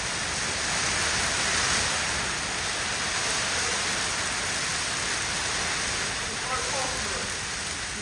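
A heavy hailstorm drumming outside an office window, a continuous loud hiss of pellets striking surfaces with no let-up.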